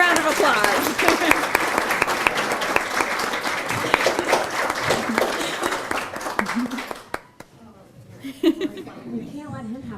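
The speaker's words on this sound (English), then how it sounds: "You get your own round of applause." Luncheon audience clapping warmly and steadily for about seven seconds before it fades out, leaving scattered voices chatting and laughing close by.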